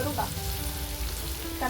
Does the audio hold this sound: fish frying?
yes